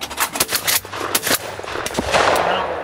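Budget pawn shop guns fire outdoors in a quick series of sharp, loud reports, several shots in close succession, the last ones trailing into a rough echoing tail.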